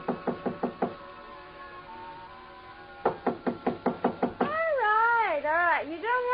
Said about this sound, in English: So I tried knocking.